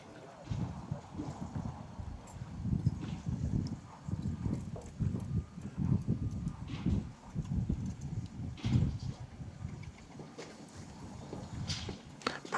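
A yearling filly walks in a sales parade, her hooves clip-clopping in a steady, even rhythm on a hard surface, moderately close and continuous, with faint background voices.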